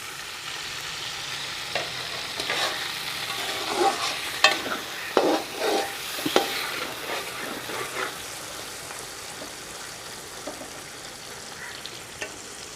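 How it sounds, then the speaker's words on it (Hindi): Tomatoes and ginger frying in a pan for aloo matar pulao, a constant close sizzle with louder bursts of stirring scrapes in the middle. "इनको भी अच्छी तरह ज़रा अदरक को भी टमाटर को भी ज़रा फ्राई कर लेंगे"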